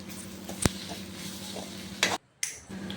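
Spoon stirring mung bean and egg rice in a pan, soft scraping and clinking with a faint sizzle, quiet and close, a sharp clack near the start and a brief cut to silence.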